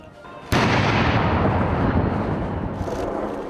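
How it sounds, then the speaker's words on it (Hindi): Ceremonial cannon salute fired at a British royal jubilee celebration: one sudden loud boom followed by a long rolling rumble and echo that slowly fades, with no talk. "जश्न में गोले बरसाती तोप"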